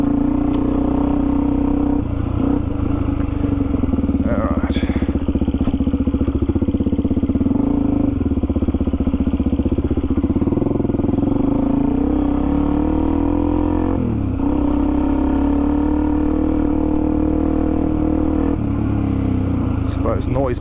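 A Suzuki DRZ400E dirt bike rides a rutted bush track near East Wombat. The single-cylinder engine drones steadily up close for the whole stretch, with shifts in pitch as the rider eases off and picks up again, and a rider's voice talks over it.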